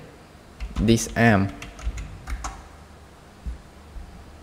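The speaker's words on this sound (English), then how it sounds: "Click on search. Type melee" Computer keyboard keys tap in a short burst of typing, with a few scattered clicks afterward, as a person speaks briefly over the start.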